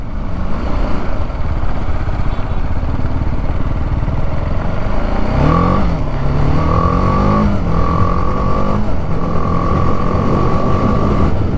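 A BMW G310R motorcycle rides off-road along a dirt road, its engine droning steadily up close with rising and falling revs as it shifts through gears.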